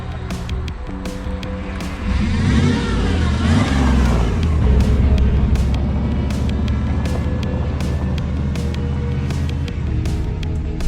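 An old shop truck, used as a burnout truck, drives with a loud steady engine roar that rises in a surge after a couple of seconds and then holds on, while sharp clicks and knocks break through at intervals.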